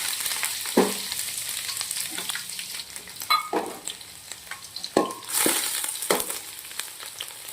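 Chopped ginger, garlic and green chillies sizzle in hot oil for a chilli potato dish, a steady crackling fry broken by a few louder spatters and stirring scrapes, close up with no talking.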